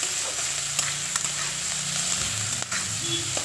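Prawns fry in a pan with a continuous close sizzle, a low hum underneath and a couple of sharp utensil taps, heard alone without any talk.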